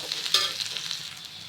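Whole cumin, cardamom and garam masala spices frying in hot oil for chicken biryani, a steady close crackling sizzle with a brief louder burst early on, no voices.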